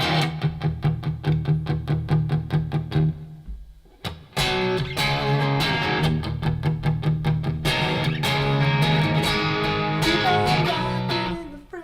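Heavily distorted Goldtop electric guitar playing chugging chords and riffs, loud and dense, with a brief pause and pick scrape midway before the riffing resumes.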